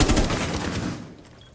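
Rapid gunfire in a competitive team shooter match between two pro teams, a dense burst of loud cracking shots up front that tails off and fades within about a second, with no talk over it.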